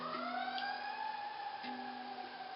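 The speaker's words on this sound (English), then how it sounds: "For whom the siren sounds." A faint, distant siren wails with a steady rising and falling tone, continuous throughout and heard alone.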